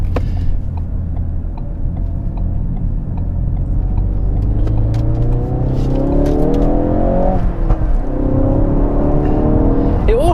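A Mk3 Ford Focus RS accelerating hard along a road, the engine note climbing steadily through the revs with a brief dip at a gear change before rising again, loud and continuous from inside the car.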